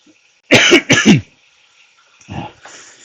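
Two loud, close coughs in quick succession, followed by a softer throat-clearing sound.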